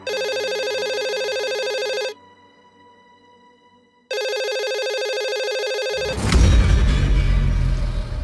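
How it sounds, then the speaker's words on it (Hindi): A telephone rings in loud electronic bursts, two long trilling rings separated by a pause, before a rumbling line noise takes over as the call to the police station connects. "हाँ, तो दोबारा फोन करो ना, पुलिस स्टेशन फोन करो।"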